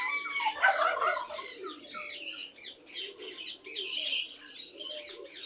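Pigeons coo and chirp in a flock kept for flying, soft, overlapping calls repeating near and far with no talking.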